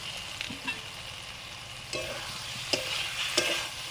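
Potatoes and eggs fry in cooked masala for an egg curry, with a continuous sizzle and a few spatula knocks and scrapes against the pan that grow more frequent toward the end.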